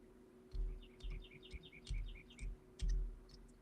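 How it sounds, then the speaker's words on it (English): Birds chirp outside on a cold morning, a series of short bright tweets in quick bursts, moderately near, over a low steady background hum with occasional soft thumps. "They're chirping outside this morning."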